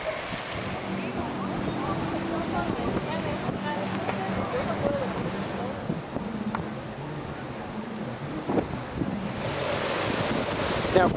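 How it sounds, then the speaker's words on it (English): Hurricane-force wind from the backside of the cyclone at Puerto San Carlos, Mexico, building into a steady, loud roar with surf-like rushing and buffeting against the microphone, gusting harder toward the end. "the wind is picking up really quickly now, and it's starting to make that sound again"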